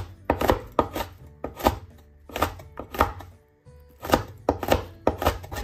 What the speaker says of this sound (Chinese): 把辣椒把给它切去不要，然后再改刀给它切成辣椒圈